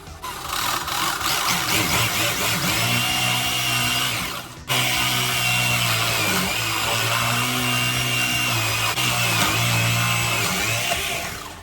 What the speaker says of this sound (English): I'm just going to go ahead and drill it.